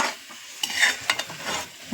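Cauliflower bharta fries in a pan with a soft continuous sizzle, broken by quick spatula scrapes and stirring strokes close by.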